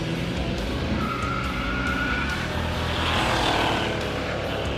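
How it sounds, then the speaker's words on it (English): Cars launching down the drag strip at Masterton Motorplex during a relaxed car-club outing, engines roaring and rising in a steady, loud blend with a surge of revving near the end and no talk. "throw their cars down Masterton Motorplex's drag strip"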